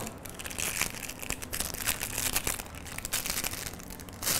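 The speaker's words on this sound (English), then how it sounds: "you are going to cut the piping bag." Scissors cut the tip of a plastic piping bag during birthday cake decorating, heard as a close, steady, loud crinkling and crushing of plastic throughout, with no voice.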